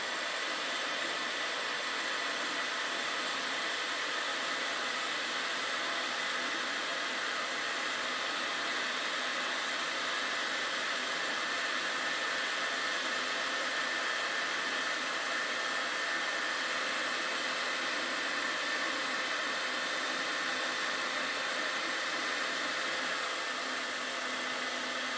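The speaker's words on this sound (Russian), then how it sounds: "берем в руки фен обычный и тестируем тепловой пожарный извещатель" Ordinary household hair dryer blowing steadily and loudly at close range for the whole stretch, a constant broadband whoosh with a faint whine, aimed at a heat fire detector during an alarm test.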